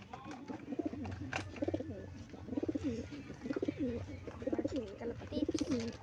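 Several pigeons coo in soft, repeated rolling phrases, fairly close and steady throughout, over a low background murmur.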